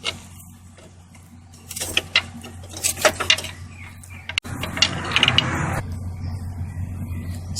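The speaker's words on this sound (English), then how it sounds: "We just want to place it in between the pump and its bracket, and we want to see if we can pry it away." A pry bar levering a Nissan hydraulic power steering pump against its bracket gives scattered metallic clicks, ratcheting scrapes and a sharp snap, then a longer grinding rasp, close up over a low steady hum.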